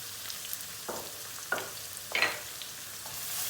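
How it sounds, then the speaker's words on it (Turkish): Garlic and onions frying in a pan as pasta sauce is started, with a low steady sizzle and a few soft stirring scrapes at intervals, fairly quiet and with no talking. "Soğanla beraber sarımsakları iyice bir kavuracağız"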